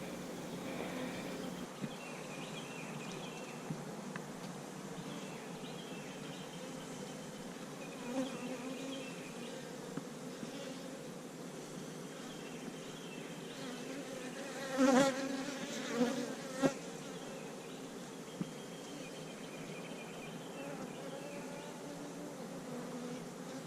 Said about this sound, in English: here is the queen bee. She's marked green